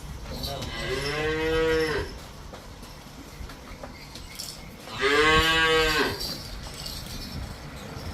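A Jersey cow moos twice, two long, loud, drawn-out calls separated by a few seconds of quiet outdoor background on a farm.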